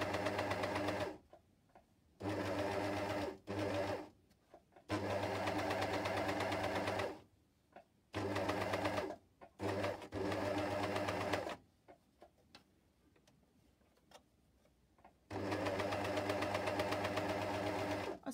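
An air overlock sewing machine stitching fabric runs in several loud bursts of steady mechanical whirring, separated by short and longer quiet pauses, with no talking.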